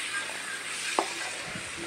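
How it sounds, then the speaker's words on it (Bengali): Onion, garlic and shredded boiled chicken fry in a pan for white sauce pasta, giving a steady close sizzle. A single sharp clink from the stirring utensil sounds partway through. "পেঁয়াজ আর রসুনটা আর একটু ফ্রাই করতে হবে।"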